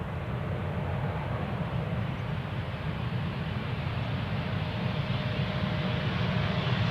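A Ryanair airliner from Malaga lands on runway 18R at Amsterdam Schiphol, heard as a steady, deep rumbling roar that swells slightly toward the end, with no talking.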